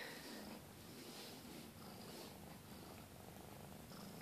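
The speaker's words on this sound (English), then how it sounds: "Hear the purr." A cat purrs softly and continuously up close, a steady low rumbling vibration with no voices.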